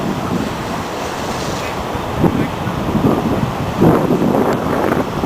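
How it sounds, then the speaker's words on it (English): Ocean surf at Bastendorff Beach by the South Jetty on the Oregon coast, a loud continuous wash of breaking waves with heavy wind noise buffeting the microphone. "this is the South Jetty, and this beach down here is Basendorf Beach."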